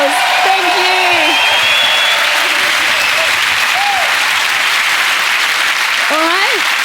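Audience applause at a singer's show, loud, sustained clapping from a large crowd with whoops and cheers rising through it and a voice briefly heard.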